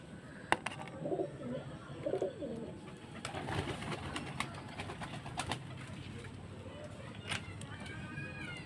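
Soft coos of young pigeons for sale come and go across a busy background of rustling and thumps, with a few sharper clicks and faint chirps.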